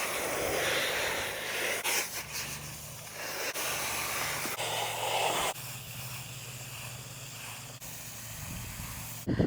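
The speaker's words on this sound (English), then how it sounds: "Get the hose on this, and we'll spray this out so that it's ready to get put back in." A garden hose sprays hard onto the filter of a WYBOT pool robot, a steady close hiss of water that shifts in tone as the stream moves, broken by a few sharp clicks and knocks.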